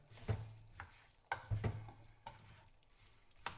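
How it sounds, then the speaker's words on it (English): A one-pan chicken pilaf simmers quietly with a soft, faint sizzle, broken by several scraping stirs of a utensil against the pan. "Well, it's still simmering away."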